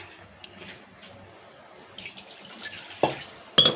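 Water poured over cooked vegetables in a pan while making sambar, with quiet trickles and splashes that build into louder bursts of pouring toward the end.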